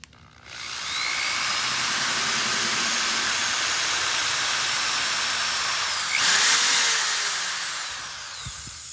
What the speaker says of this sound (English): I think I need to drill a little more